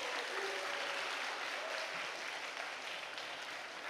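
A church congregation applauds during a Sunday afternoon worship service, a steady wash of clapping that holds at an even level for about four seconds with no voices over it.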